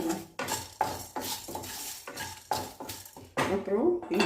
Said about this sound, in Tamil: இப்போ இது எல்லாத்தையுமே நம்ம வறுத்துட்டு வந்துடலாம். எல்லாம் ஒன்றா போட்டு வறுத்துட்டுருங்க.